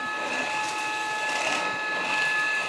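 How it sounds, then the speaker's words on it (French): A vacuum cleaner runs over a rug with a steady, even whine and airy rush, close and continuous, with no pauses or talk. "Il est super agréable à passer cet aspirateur."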